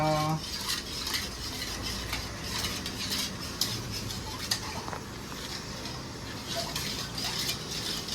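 A spoon stirs chaat with chaat masala in a dish, making repeated clinking and scraping strokes against the plate at close range, with no talking.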